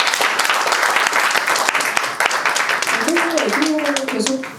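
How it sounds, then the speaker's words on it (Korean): Applause from a film screening audience at a director's retrospective Q&A, dense clapping that carries on as a voice begins speaking over it near the end. "박수 부탁드립니다."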